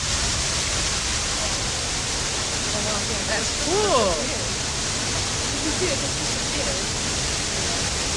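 Water of the Tarawera River rushing beneath ancient lava rocks at the Tarawera Cascades, New Zealand, a steady broadband roar lasting throughout, with a brief voice speaking partway through.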